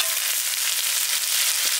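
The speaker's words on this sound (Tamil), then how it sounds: "கட் பண்ண வெங்காயத்தை போட்டலாம்" Cut onions frying in a pan for parrot fish curry, a loud, dense, unbroken sizzle close up with no voices.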